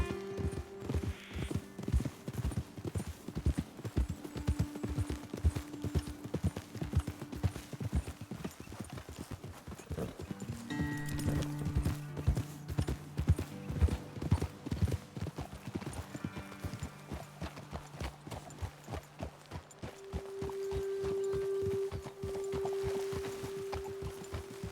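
Horses trot steadily in Red Dead Redemption 2, their hooves clip-clopping in a brisk, even rhythm close by. Several riders move together while people talk and music plays underneath.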